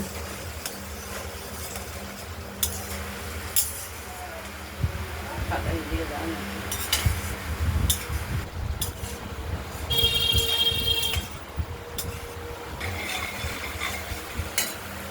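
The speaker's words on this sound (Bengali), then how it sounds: "মশলাটা কষানো হয়ে গেছে" A spice paste is sautéed in a pan for a potato and fried paneer fritter curry, making a soft sizzle with scraping stir strokes, mostly under a voice speaking nearby.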